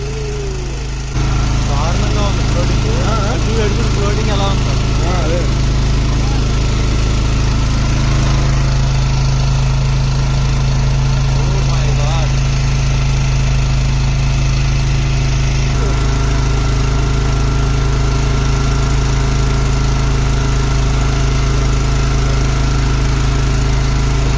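A motorboat engine drones steadily on the flooded Ganges beside the Varanasi ghats, a loud continuous low hum running throughout while people talk over it.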